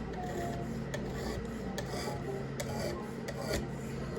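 A Buck 119 knife blade is drawn across a sharpening stone, giving a continuous gritty rasping with repeated strokes over a steady background hum.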